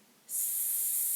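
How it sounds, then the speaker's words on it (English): A sudden sharp hiss bursts in after a moment of quiet and holds steady and loud, like hot chili sauce sizzling on a red-hot stove. "Sizzle!"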